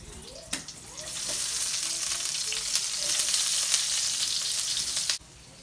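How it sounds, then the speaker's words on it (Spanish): Onion pieces hit a preheated frying pan with a sharp clatter and then sizzle loudly and steadily for several seconds before the sound cuts off abruptly. "Y lo voy a poner en mi sartén que ya tengo calentado"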